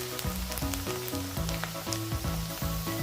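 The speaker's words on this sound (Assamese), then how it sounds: "পিঁয়াজ এটা কাটি লৈ তেলত এনেকৈ ভজা হৈছে" Chopped onion frying in oil in a pan, a steady close sizzle with light stirring, no talk.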